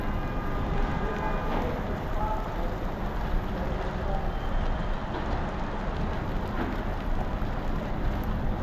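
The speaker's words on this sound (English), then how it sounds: "That is some big hail." Big hail and strong wind batter down during a San Antonio hailstorm, a dense, loud, unbroken roar of pelting ice and gusts with no pauses.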